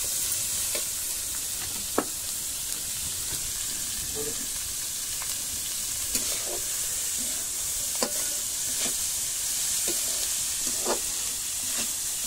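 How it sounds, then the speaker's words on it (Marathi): Chopped onions frying until reddish on a traditional wood-fired stove, a steady loud sizzle with occasional crackles and stirring scrapes throughout, no talking. "थोडंसं कांदो आता लाल कलरचं परतून घेऊया।"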